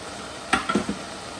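Spices including coriander, Kashmiri chilli, garam masala and turmeric sizzle briefly in hot oil, with three quick stirring scrapes in a row before it falls quiet.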